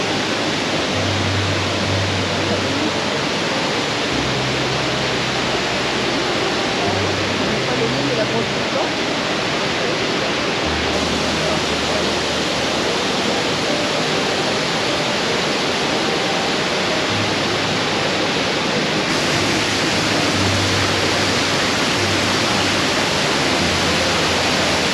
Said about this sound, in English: we actually finally get to see the waterfall